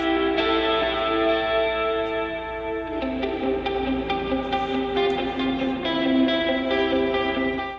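Slide guitar and soft ambient lead lines drenched in stock reverb and echo. Gliding sustained notes ring together in a lush, washy, continuous layer at steady moderate loudness, with no voices.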